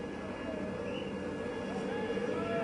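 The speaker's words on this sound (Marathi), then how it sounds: "कोस्टगार्डचं हे हेलिकॉप्टर आहे" Coast Guard helicopter flying over a rescue operation after a building collapse, a faint distant engine drone with a steady whine that lingers low in the background.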